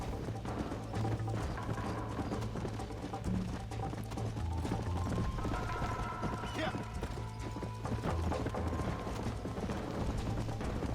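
Horse hooves clip-clop steadily on a road in the Red Dead Redemption video game, a continuous trotting rhythm with faint mechanical clicks and a brief whinny, under steady background game sound.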